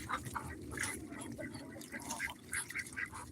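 Backyard ducks quack in a run of short, repeated bursts at close range over steady outdoor noise.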